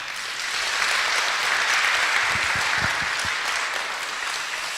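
A church congregation claps in welcome for a visiting deaconess from Korea, a steady wash of applause from many hands that swells and then eases slightly, with a few sharper claps standing out near the middle.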